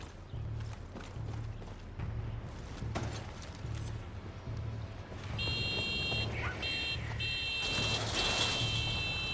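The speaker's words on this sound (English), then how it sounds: "What's that noise? Oh, why are you beeping at me?" An electronic alarm in the Far Cry 6 video game, a run of high, repeated beeps coming in over a rhythmic mechanical rumble, loud and close with no speech.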